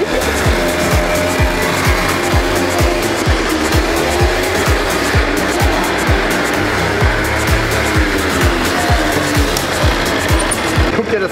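A cold scooter engine revved in short bursts, loud and continuous with a rapid pulsing idle throughout, close to the microphone.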